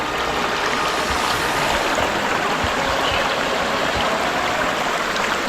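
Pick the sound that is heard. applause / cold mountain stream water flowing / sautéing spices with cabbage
cold mountain stream water flowing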